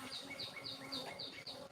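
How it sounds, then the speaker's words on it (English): Honeybees buzzing around an open hive during an inspection, a soft, steady drone with repeated rising whines from bees flying past nearby. "And these bees are cool."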